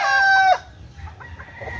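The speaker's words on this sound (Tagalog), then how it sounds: "ipapakita ko sa iyo yung mga manok namin" A rooster crows loudly up close, then a few soft clucks from chickens follow in a quiet backyard farm.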